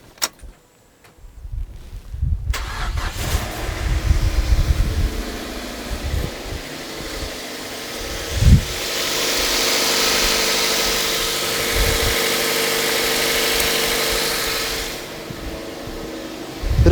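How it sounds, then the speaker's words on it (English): A cheap Mazda MX5 with a newly fitted thermostat cranks with jangling keys, catches and settles into a steady, loud idle with a few brief revs and bumps, close up and with no talking. "Let's start it up and see what it sounds like."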